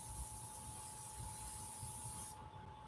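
An airbrush sprays paint onto a pirate skull design, giving a steady, fairly quiet hiss that runs continuously and then drops off sharply near the end.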